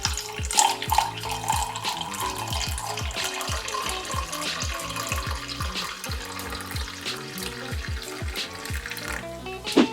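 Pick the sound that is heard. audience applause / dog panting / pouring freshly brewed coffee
pouring freshly brewed coffee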